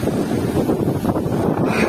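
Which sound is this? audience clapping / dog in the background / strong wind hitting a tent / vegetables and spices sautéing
strong wind hitting a tent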